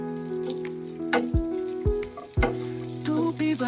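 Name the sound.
garlic sizzling as it is added to a hot wok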